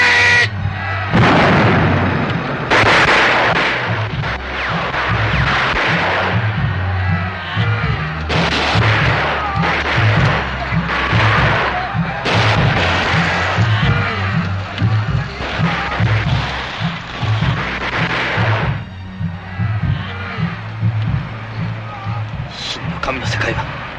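Battle scene from a 1962 film about the Amakusa Shiro rebellion: repeated heavy booms of artillery and volleys of gunfire over a rumbling din, loud and dense throughout, with crowd shouting mixed in.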